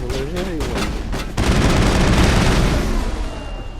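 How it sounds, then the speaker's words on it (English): Rapid bursts of gunfire and explosions from exploding shells in the Mass Effect video game, loud and continuous, with a dense, sustained barrage, while a voice speaks briefly at the start. "Explosion. There's so many explosions."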